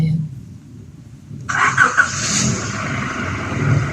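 A car engine revs outside, fairly close by, kicking in abruptly after a quiet stretch and holding a steady mid-range roar with a couple of louder surges, while faint voices murmur underneath.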